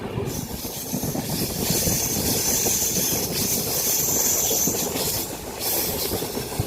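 A train near Hasimara, passing tea gardens, rumbles steadily along the rails, wheels clattering in a dense, continuous roar with a faint hiss on top.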